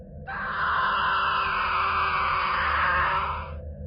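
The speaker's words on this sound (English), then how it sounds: "Suddenly, we hear a man screaming." A man's single long, loud, strained scream of despair holds steady for several seconds at close range before cutting off, with no talk around it.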